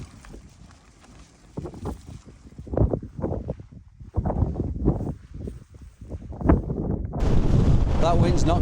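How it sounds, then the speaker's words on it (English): Strong gusts buffet the microphone on a Lake District summit during a wild camping trip, rough bursts of wind noise that surge and fade irregularly and grow loud and sustained toward the end, with speech heard at times. "That wind's not giving up."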